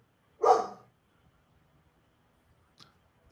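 A puppy gives one short, sharp bark up close, then silence apart from a faint click near the end.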